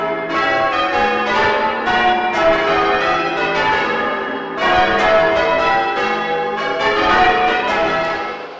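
English church bells ring in the circular style, with struck tones overlapping in a continuous, loud, ringing peal that swells and repeats throughout.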